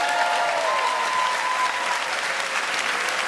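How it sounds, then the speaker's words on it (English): Audience applause at a comedy magic show, a dense, steady wash of clapping from a full crowd for a volunteer on stage, sustained and loud for the whole stretch. "Give Sean a huge round of applause."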